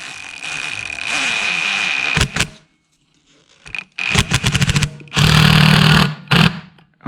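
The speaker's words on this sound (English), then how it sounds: "I use my drill to push these down" A power drill whirs in several bursts while assembling an LS 5.3L engine, starting and stopping with short pauses between, loud and close.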